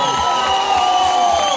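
At a band concert in Tamási, the audience claps and cheers with a few whoops while sustained music tones ring on, forming a loud, continuous crowd roar.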